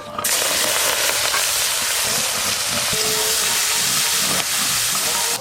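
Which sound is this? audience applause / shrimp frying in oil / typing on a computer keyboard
shrimp frying in oil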